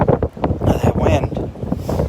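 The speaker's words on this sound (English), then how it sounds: "That wind." Strong onshore wind on a beach at Delnor-Wiggins buffets the microphone in loud, rough gusts for a couple of seconds.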